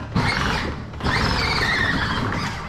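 A Ford F-150 Raptor Power Wheels toy truck rolls forward with a steady electric motor whine and tire noise, a short pause near the one-second mark before it resumes close by.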